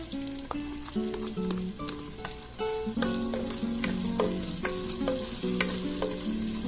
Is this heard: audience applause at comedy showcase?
no